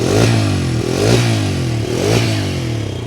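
A Bajaj Freedom 125 motorcycle idling on CNG, a loud, steady close-up engine drone with a rhythmic pulsing beat and light mechanical clatter, rising slightly in regular surges.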